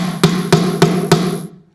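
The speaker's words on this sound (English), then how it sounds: "grab my handy dandy hammer, and hold it down and hammer it in." A hammer drives a nail home with four sharp, evenly spaced strikes about a third of a second apart, close and loud, each ringing briefly before quiet returns.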